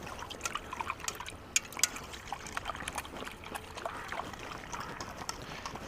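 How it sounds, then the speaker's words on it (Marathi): Warm water mixed with shampoo swirls in a basin, giving soft, close trickling and sloshing with a few brief splashy peaks, quiet overall and with no talking. "हे पाण्याला ना असं हलवून घ्यायचं"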